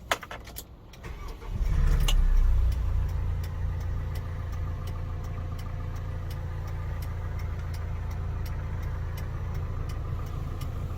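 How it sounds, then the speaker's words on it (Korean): Kia Bongo 3 truck engine cranks briefly and catches, then settles into a steady, loud low idle that runs unbroken to the end. "자 이번에는 시동 한번 켜보도록 하겠습니다"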